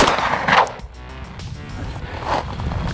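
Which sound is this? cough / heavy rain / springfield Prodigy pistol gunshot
springfield Prodigy pistol gunshot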